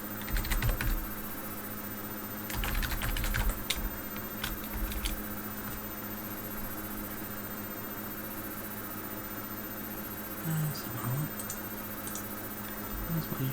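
Typing on a computer keyboard brings quiet bursts of clicky keystrokes in short clusters, with long pauses of faint background hiss between them and no talking.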